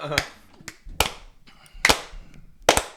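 A handful of sharp, loud claps land in a loose rhythm, four main beats with faint extra hits between them, from a performer's audience clapping along.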